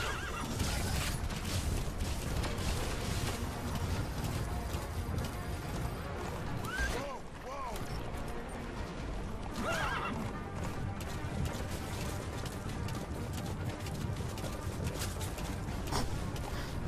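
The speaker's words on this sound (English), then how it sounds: "Look at Kaz, he's just getting bounced constantly on the horse." Horse hooves clip-clop at a gallop in Metal Gear Solid V, a fast steady drumming throughout, with a couple of whinnies and game sounds layered over it.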